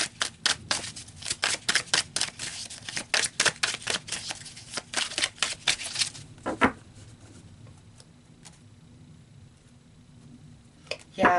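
Tarot cards are shuffled in rapid bursts of crisp riffling and flicking, followed by quieter taps and slides as cards are pulled and laid down, close and fairly soft.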